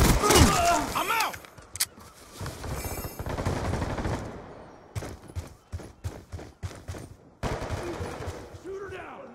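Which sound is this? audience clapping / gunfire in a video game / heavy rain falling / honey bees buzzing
gunfire in a video game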